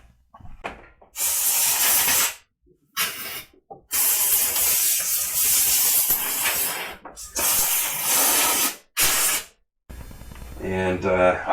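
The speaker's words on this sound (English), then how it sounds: "spraying some compressed air in here to prevent stuff from falling into the tank, so I'll hit it with some air" Loud bursts of compressed air hissing into a Nissan 240SX S13 fuel tank opening during a fuel pump install, in several long blasts separated by short pauses, followed by a brief voice at the end.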